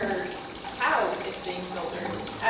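Dishwasher drain water running through a greywater filter pipe, a soft continuous trickling and gurgling rush with a brief louder splash near one second.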